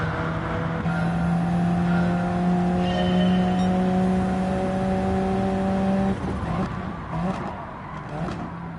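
Race car engine in Gran Turismo 7 holding a steady high-pitched drone at sustained revs, then dropping off and shifting into rougher, lower engine noise with brief tyre or curb sounds, loud and close with no talk.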